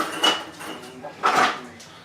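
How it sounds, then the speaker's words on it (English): A silver metal mixing bowl is flipped over to tip out cinnamon roll dough, giving a couple of sharp metallic clanks and knocks with quieter handling rattles between them, close by. "So we're going to turn our bowl over, let the dough fall out."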